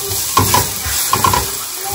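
Garlic, ginger and onion frying lightly in a pan with a little salt, sizzling steadily up close while a spatula stirs in two short bursts of scraping.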